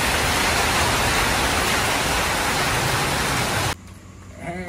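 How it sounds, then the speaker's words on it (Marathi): A heavy rain downpour makes a loud, even rushing roar that fills most of the clip, then cuts off abruptly and leaves only faint background sound. "दुनियाचा पाऊस कोसळतो हे बघा."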